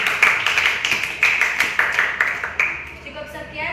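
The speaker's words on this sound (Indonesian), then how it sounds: "kasih tepuk tangan dulu buat kelompok 1" A classroom of students claps for a presentation group, a short burst of close, bright applause that thins out and fades after a few seconds.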